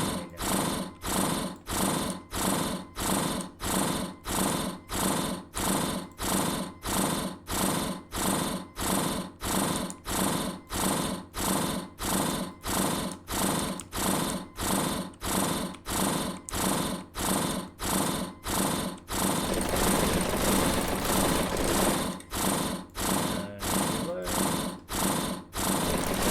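Chainsaw in a video game chugging in a steady, rapid mechanical pulse, about one rattling burst per second, loud and continuous throughout with a denser, rougher stretch near the end.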